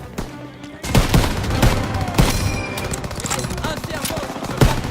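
Dense World War II gunfire in Call of Duty WWII, rapid rifle and machine-gun bursts with sharp loud cracks over a rumbling battlefield, voices speaking amid the shooting.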